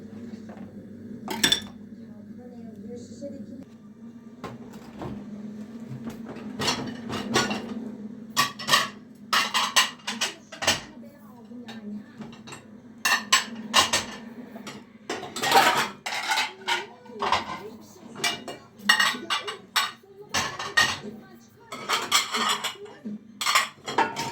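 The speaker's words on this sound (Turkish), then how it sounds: "Bulaşık makinemi boşaltayım." Dishes and cutlery clink and clatter irregularly as they are unloaded from a dishwasher and set down, with a low background hum throughout.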